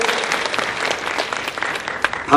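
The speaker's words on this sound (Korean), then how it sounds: "한번 뜨겁게 한번 축복의 박수 환영합니다" Church congregation clapping together to welcome and bless an engaged couple during a service, a dense steady applause that swells louder at the very end.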